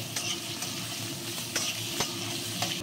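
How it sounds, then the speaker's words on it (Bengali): Potato, young jackfruit pieces and vegetable stems fry in oil for a mixed greens chorchori. A soft sizzle runs beneath repeated scraping strokes of a spatula against the pan, with no speech. "এখানে ডাঁটাও দিয়ে নিচ্ছি, একসঙ্গে ভেজে নেব"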